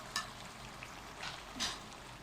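Tomatoes and ground green chili fry in a pan for beef korma, a quiet, steady sizzle with a few brief scrapes of stirring breaking through.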